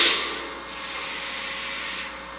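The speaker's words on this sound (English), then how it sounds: "Let's do the steam blowdown sound." A Lionel Legacy O scale Pennsylvania Railroad 4-6-2 K4 Pacific model locomotive plays its steam blowdown sound, a sharp hiss that bursts out and then settles into a steady, moderately loud rushing noise.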